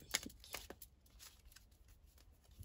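Cards are handled and drawn from a tarot-style deck, a faint close series of papery slides and flicks, with a crisp shuffle at the start.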